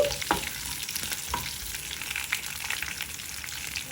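Crushed garlic cloves fry in a hot pan, giving a steady close sizzle and crackle with a few sharp pops and stirring scrapes, and no voices.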